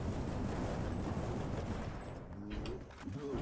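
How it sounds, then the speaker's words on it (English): Explosive shotgun rail blasts in the game Hades crackle in a dense, loud barrage of rapid bursts and rumbling, thinning into a few scattered bangs at the end. "The explosion actually staggers too"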